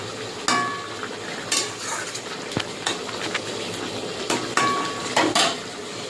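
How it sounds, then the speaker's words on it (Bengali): Fried katla fish pieces go into a bubbling curry with ridge gourd and potato and are stirred in the pan, with repeated sharp clinks of a metal spoon against the pan over a steady simmer. "ভেজে রাখা কাতলা মাছগুলো এবার দিয়ে দেবো"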